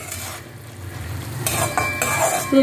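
Broad beans (avarakkai) sautéing in a pan with salt for a coconut curry, stirred with a spoon: a close sizzle under repeated scraping and clinking strokes of the utensil against the pan, growing busier toward the end.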